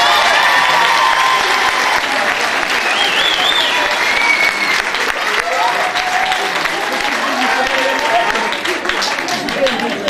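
An audience applauds young performers after a show of songs they wrote themselves: loud, dense, sustained clapping with scattered cheers, whistles and crowd voices throughout.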